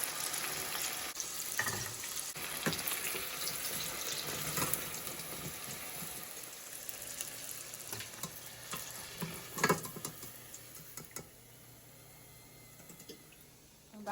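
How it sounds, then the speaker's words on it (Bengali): Coated chicken pieces fry slowly in shallow oil in a home kitchen, giving a steady, close sizzle with a few brief clinks and scrapes and no talk. "তাই অনেক অল্প আছে ধীরে ধীরে ভাজতে হবে যাতে করে ভিতরের মাংসটা সেদ্ধ হয়"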